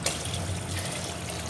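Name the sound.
water being poured into a sump pit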